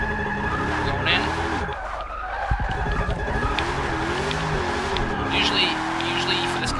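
A Ford Mustang GT500 drift build in Forza 6 slides with handbrake use, engine droning and tires squealing in long, wavering skids, loud and close, while someone talks over it.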